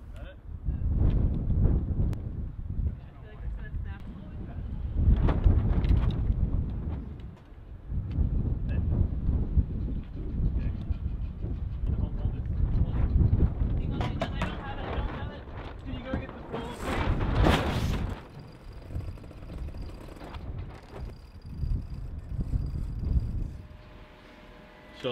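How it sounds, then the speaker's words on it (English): Strong, hot Santa Ana wind gusts buffet the microphone in heavy, rumbling surges that rise and fall in a boatyard, with people talking intermittently underneath. "With the Santa Ana winds blowing, it was hot and windy in the boatyard"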